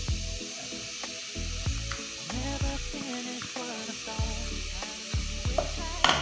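Onion, bell pepper and garlic sizzle in oil in a pot, a continuous frying hiss broken by repeated clanks and scrapes of stirring.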